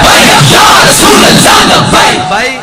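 A large crowd at a Tehreek-e-Labbaik Pakistan rally shouts slogans in unison, loud and close, a dense mass of roaring voices that swells and then trails off slightly at the end.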